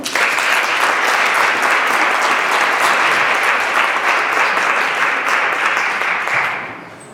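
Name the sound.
audience applause for a musician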